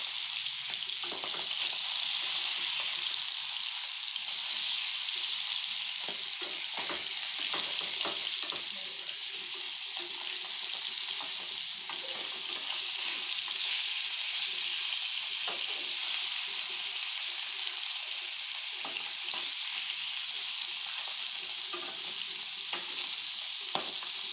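Fish (vaala meen) sizzles steadily in hot oil in a pan for a fish curry, a continuous close frying hiss with light stirring crackles and no talk.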